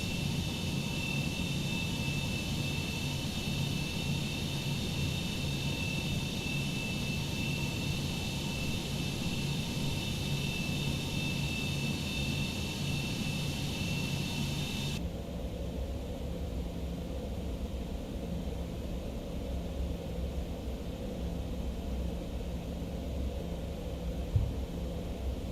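Steady jet engine roar from a Citation X business jet in a flight simulator game, a continuous loud broadband rumble with a high whine that drops away halfway through, leaving a lower, duller drone.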